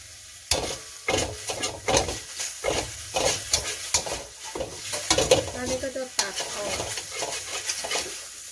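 Enoki mushrooms and small dried fish are stir-fried in a pan for chili paste, with loud rhythmic spatula scrapes and clanks over a constant hiss of frying.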